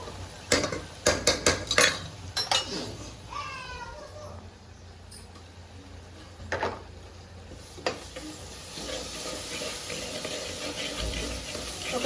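Stirring onions frying with turmeric and ginger in a pan, a burst of quick scraping and clinking strokes at the start, then scattered spoon knocks over a soft sizzle, with a cat meowing briefly.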